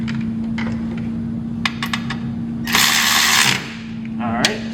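A wrench tightens a nut on a battery terminal while installing a reverse light kit on a 2019-2024 RAM 2500/3500 HD pickup, with a few sharp metallic ticks, a steady electrical hum beneath and a louder burst of rasping in the middle.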